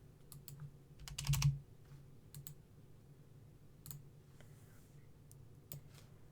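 Keys tap on a computer keyboard as an address is typed, in quiet, sparse clicks with a short faster burst of keystrokes early on and a few isolated taps afterward, close but faint in a quiet room.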